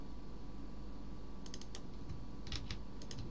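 Ctrl+V pressed on a computer keyboard while working in Microsoft Flight Simulator: a few quick, close key clicks in two small bursts over a faint background hum.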